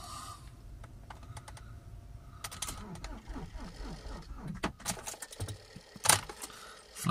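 Vehicle with a flat battery failing to start, a quiet rapid clicking and weak stuttering whir from the starter, uneven bursts with sharp ticks and jangly clatter close by, no talking.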